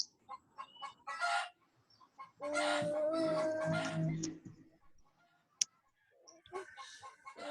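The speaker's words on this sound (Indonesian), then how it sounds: "Nampaknya suara ayam" Chicken clucking and squawking in bursts, with a longer rising cackle in the middle, fairly faint and distant against a quiet background, with a few other small noises between calls.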